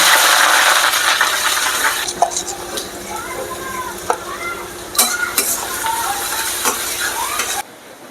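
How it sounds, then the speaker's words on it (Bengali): Onions sizzle steadily in hot white oil in a kadai, a loud bright crackle that eases slightly as occasional stirring scrapes and clinks sound against the pan. "কড়াইতে দিয়ে দিয়েছি সাদা তেল, তেলটা গরম হয়ে গেছে। এখন আগে পেঁয়াজগুলো ভেজে নেব।"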